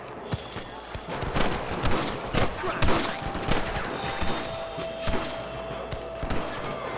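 Gunfire aimed at rustlers in Red Dead Redemption: repeated sharp shots come in irregular bursts over steady outdoor game ambience, with faint voices in the background.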